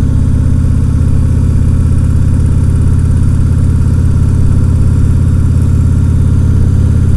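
A trike's engine drones steadily and loudly at a medium pitch while riding rural roads on a sunny day on the west coast of British Columbia, with wind rushing over it and no talking.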